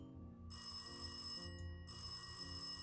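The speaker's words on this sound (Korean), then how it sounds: "전화가 왔어요." In the Cube Escape birthday puzzle game, a telephone rings in two short electronic bursts over a soft, low musical backdrop.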